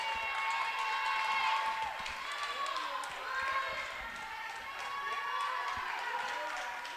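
A home crowd cheers and claps at a Grayson County Lady Cougar high school volleyball match, steady roaring applause filling the gym throughout with a commentator talking over it.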